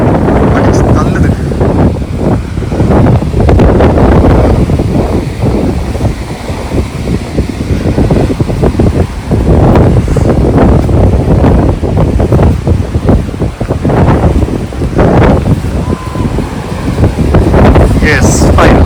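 Strong wind buffets the microphone at a seaside beach, a loud continuous roar with gusty swells throughout, mixed with surf, while a person talks over it.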